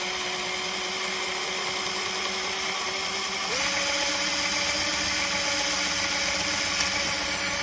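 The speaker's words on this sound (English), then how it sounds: "So let's drill those out." A power drill bores out rivets on a 2011 Kia Forte. It gives a continuous, close, high-pitched whine that steps up in pitch partway through and runs steadily without speech.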